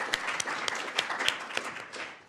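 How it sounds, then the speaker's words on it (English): Scattered audience applause at a legal symposium, a thin ripple of individual claps with a few sharper slaps standing out, fairly quiet and fading as the round winds down. "One more round of applause."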